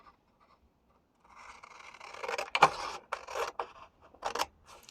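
A 30x30 sheet of paper is cut in a few close, dry scraping strokes that rise from quiet to a sharper snip-like burst and then taper into short rustles.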